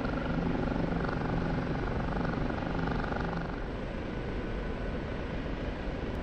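Steady, loud rotor and turbine drone of an OH-58 Kiowa Warrior helicopter in the DCS flight simulator, a continuous even whir filling the whole stretch with no voices.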